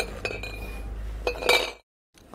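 Glass beer bottles clink sharply together several times as they are set in a round arrangement for a flower pot, close and distinct, then a brief silence.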